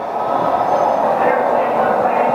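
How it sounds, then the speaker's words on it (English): A train crosses a bridge, giving off a steady, loud rolling rumble with a faint metallic ring throughout, and a voice is heard over it. "that train going across the bridge"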